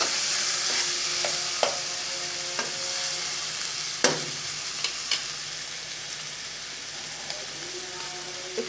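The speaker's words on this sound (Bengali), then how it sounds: "একটু হলুদ দিয়ে দিলাম, মাছটা একটু ভেজে নেব তেলের পর।" Prawns with turmeric frying in hot oil give a steady broadband sizzle throughout, with occasional sharp clinks and scrapes of a spatula stirring the pan.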